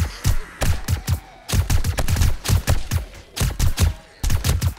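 Rapid gunfire at zombies in the 7 Days to Die video game: repeated sharp shots in quick bursts, loud and near, with brief pauses between volleys.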